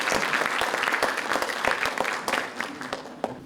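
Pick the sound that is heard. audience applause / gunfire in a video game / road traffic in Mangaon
audience applause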